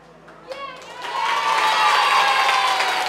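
An audience at a charity gathering breaks into applause after a short voice, the clapping swelling quickly into a loud, sustained wash of many hands.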